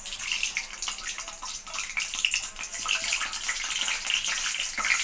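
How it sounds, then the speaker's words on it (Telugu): Mustard seeds crackle and sizzle in hot oil for tempering a tomato pickle, giving a steady dense spitting hiss that runs continuously at close range with no voices. "ఇప్పుడైతే ఆవా గింజలు వేస్తున్నాను దీంట్లో"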